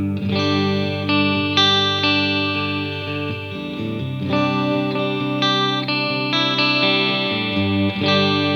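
A PRS SE Custom 24 Quilt Top electric guitar in its single-coil and humbucker pickup setting rings out distorted chords and riffs with a bright edge, played loud and continuously with nobody speaking.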